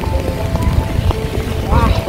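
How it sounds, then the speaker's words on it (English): Heavy rain pours onto a street in an outlet village, a dense continuous hiss of drops, while a voice talks over it. "The rain is super heavy now."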